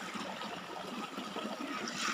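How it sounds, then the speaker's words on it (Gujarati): Water runs through irrigation channels across a five-bigha farm field, a continuous close babbling trickle with no other sounds. "મસ્ત પાણી હાલે છે."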